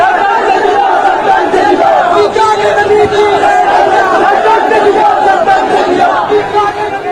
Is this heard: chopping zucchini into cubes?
no